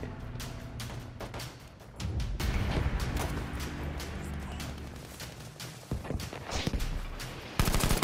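Battlefield 5 gameplay with dense, loud bursts of rapid automatic gunfire and scattered single shots that continue almost without pause, over a busy battlefield din.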